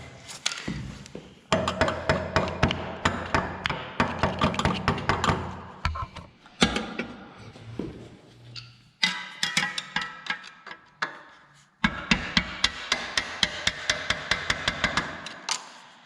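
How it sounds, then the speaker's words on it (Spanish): Metal tools tap and hammer on a motorcycle's rear suspension linkage while driving out a bolt, with fast rhythmic bursts of sharp metallic strikes in several runs separated by short pauses, close and loud. "Una cosa que podéis hacer es dar golpes con un destornillador fino, meterlo en el hueco según va saliendo el tornillo"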